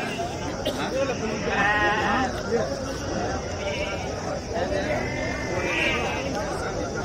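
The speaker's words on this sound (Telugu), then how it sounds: "ఇక్కడ పొట్టేలు ఉన్నాయి, చూద్దాం బాండి" Rams bleating at a busy weekly sheep livestock market, several wavering bleats rising over a constant crowd hubbub, with people talking nearby throughout.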